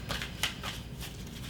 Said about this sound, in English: let me just turn these back over so I get a proper shuffle